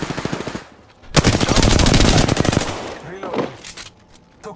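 Rapid automatic gunfire in the battle game Apex Legends: a dense, loud burst of shots lasting about two seconds, with scattered shots and game sounds before and after.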